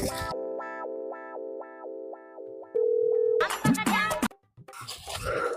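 A telephone handset plays a series of repeated electronic tones followed by a steady held tone as a call is placed. Voices then speak loudly and briefly over other noise.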